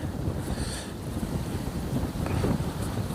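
Strong wind buffeting the microphone outdoors beside water where shrimp nets are set, a continuous loud rushing roar with gusty swells.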